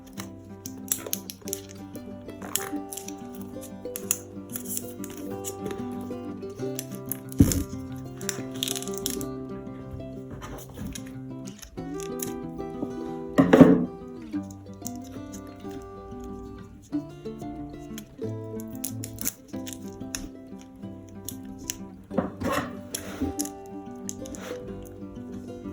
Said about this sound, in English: So I'm going to open this out and see how this is inside.